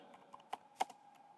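Keystrokes on a computer keyboard while a social media post is written, a few soft clicks with two sharper taps standing out, close and quiet with no talking.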